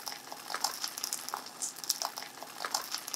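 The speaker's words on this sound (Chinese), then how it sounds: "然后你就把它稍微再煎个2-3分钟哦" Scallion pancake with egg frying in a pan over low-medium heat, giving a steady close crackle and sizzle with small bursting pops throughout, no voices.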